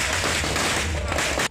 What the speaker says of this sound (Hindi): कार्यकर्ताओं ने पहले पटाखों से अपने नेता का स्वागत किया